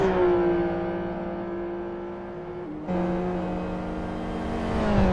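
Race car engines from a GT racing video game drone and whine steadily at high revs, the pitch dipping briefly then jumping as a gear changes, loud and continuous with no talk.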